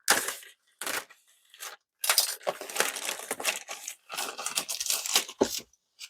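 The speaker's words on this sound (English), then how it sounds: "I'm just going to open the plastic bag." Loud, close crinkling and tearing of a plastic bag in irregular bursts, with brief pauses between handling.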